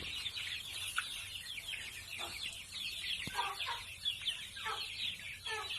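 Month-old free-range chickens cluck and chatter in a dense, steady flock, with overlapping calls close by and continuous background farm noise.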